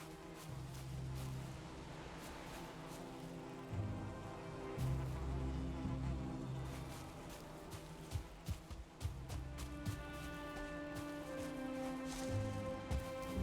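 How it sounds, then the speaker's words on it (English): Insects buzz in the Valheim video game world, a steady drone under layered game music and ambience, with no talk. "I hear some buzzing."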